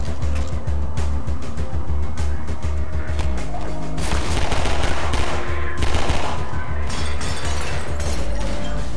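Gunfire in the video game Half-Life 2, with dense, continuous rapid automatic shots and loud blasts over a heavy rumbling background, sustained and loud throughout.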